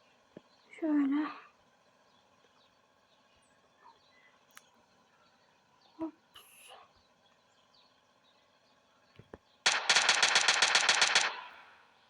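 Video-game gunfire in GTA 5 while driving: a long, rapid automatic burst near the end dominates, after scattered quieter game sounds and a few brief thumps and clicks.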